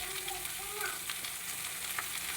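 Spinach thoran, a Kerala greens stir-fry, sizzles steadily in a pan while being stirred, with a continuous close frying hiss and light scraping, and no talking.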